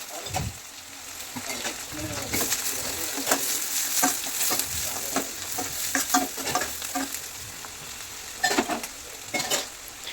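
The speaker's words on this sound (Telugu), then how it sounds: "ఇప్పుడు కట్ చేసుకున్న ఉల్లిపాయలు పచ్చిమిరపకాయలు వేసేసుకోవాలండి మంచిగా వేయించుకోవాలి" Chopped onions and green chilies fry in a pan for a ridge gourd and potato curry, a soft crackling sizzle broken by repeated spatula scrapes and taps, close up without speech.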